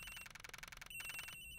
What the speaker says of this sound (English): Or somebody's phone is ringing.